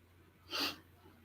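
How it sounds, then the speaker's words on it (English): A single short nasal sniff, close and fairly soft, lasting under half a second against quiet background. "I'm sniffling"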